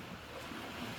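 Steady broadband wash of sea waves breaking on a beach, continuous and fairly faint, with some wind noise on the microphone and no talking.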